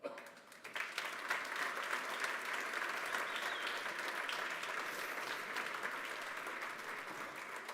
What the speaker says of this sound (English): please welcome, with a big round of applause, the 9 startups